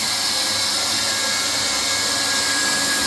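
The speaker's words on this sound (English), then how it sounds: "Welding the 2 corners." A hot air welder blows a steady, loud, unbroken hiss while corners of safety vinyl flooring in a shower room are welded.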